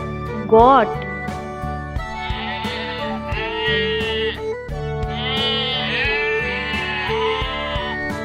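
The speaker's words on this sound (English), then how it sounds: "Goat." A goat bleats in repeated wavering, nasal cries over a bright musical backing, loud and close, part of a children's animal-learning animation.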